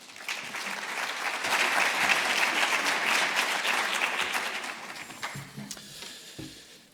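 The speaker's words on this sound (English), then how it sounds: "So a round of applause, please, as he makes his way up." An audience at a conference gives a round of applause as a speaker walks up for closing remarks, dense clapping swelling over several seconds and then thinning out to scattered claps.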